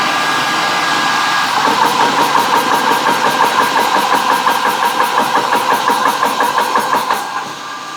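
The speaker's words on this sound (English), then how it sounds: "so now you hear the fan really kick on" Nomad 3 personal air compressor running at high pressure with its cooling fan kicking on, a steady loud mechanical whir with a rapid pulsing chatter throughout, easing off slightly at the very end.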